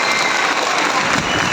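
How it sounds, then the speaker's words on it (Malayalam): A school PTA day audience claps together, a dense, loud burst of applause filling the whole moment. "കൈയടിച്ചോളൂ"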